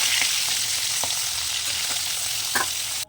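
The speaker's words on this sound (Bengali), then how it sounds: "গ্যাসের হালকা রেখে মাছটাকে ভাজতে হবে" Oil sizzles and crackles steadily as hilsa fish fries in a wok over low gas, with occasional pops, close and continuous until it cuts off abruptly.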